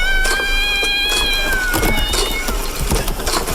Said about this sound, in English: they're very similar to the cat sound effects that we heard at the end of Ghostwatch